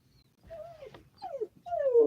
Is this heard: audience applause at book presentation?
no